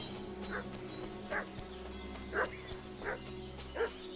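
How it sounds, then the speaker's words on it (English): A dog in the medieval role-playing game Kingdom Come Deliverance II barks in several sharp, spaced yaps over a steady ambient bed of background music and low hum. "What's that dog making such a fuss about?"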